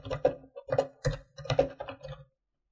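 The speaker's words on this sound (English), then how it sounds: "all I do is start typing some text." Typing text on a computer keyboard, four or five quick bursts of clicking keystrokes close by with short pauses between, then silence.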